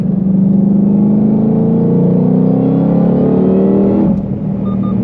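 A Ford Mustang Shelby sports car engine revs hard and close on a track, its pitch climbing steadily before a sharp downshift blip near the end.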